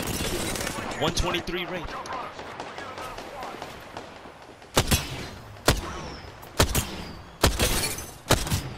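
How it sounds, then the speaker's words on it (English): Sharp, loud gunshots ring out one by one, evenly spaced, in an Apex Legends final-circle fight, following a stretch of busier mixed noise where a voice speaks briefly. "There's another team shooting me from the Mount C, bro."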